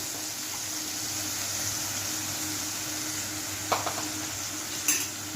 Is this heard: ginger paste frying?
yes